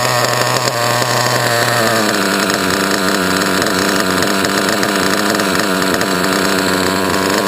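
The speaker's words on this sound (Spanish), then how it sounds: "ya notaréis cómo cambia incluso el sonido del motor" Small nitro RC model engine running steadily after its carburetor low-speed needle is closed slightly, a loud, continuous buzzing drone with dense harmonics whose pitch shifts and settles about two seconds in.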